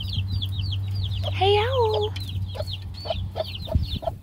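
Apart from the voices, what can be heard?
hen and chicks clucking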